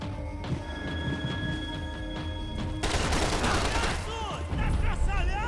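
Gunfire in the Max Payne 3 shooter game: muffled background action first, then a dense burst of rapid, loud shots that continues in clustered volleys through the rest of the moment.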